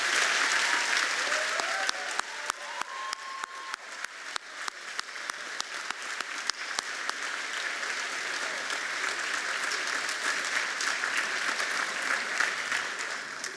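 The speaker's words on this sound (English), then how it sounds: "turn to the audience and receive your applause for their care and concern" Sustained audience applause fills a commencement ceremony for an architecture and design school, a dense steady wash of many hands clapping that holds at even loudness throughout with no speech over it.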